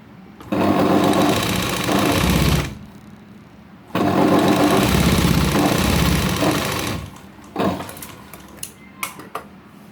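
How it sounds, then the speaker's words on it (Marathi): A sewing machine stitches the sides of blouse sleeve pieces in two loud, steady whirring runs of about two to three seconds each, followed by a few scattered clicks and handling sounds. "याला आपल्याला साईडने शिलाई मारायची"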